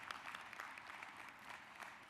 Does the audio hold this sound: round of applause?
yes